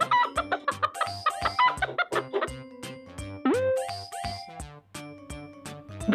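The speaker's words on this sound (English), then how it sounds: "Chicken." A chicken clucks in quick repeated bursts over steady background music, the calls fairly loud and close with no voices.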